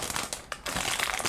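Crinkly plastic rustling in quick bursts, close up, with short pauses between the crumpling sounds.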